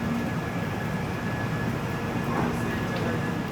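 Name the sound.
12496 Pratap Superfast Express train departing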